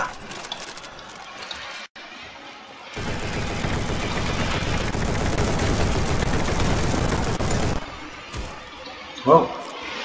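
Sustained, dense combat-shotgun gunfire from the online shooter game BattleDudes.io, rapid blasts running close and loud for several seconds, with quieter game sounds before and after and a short burst near the end.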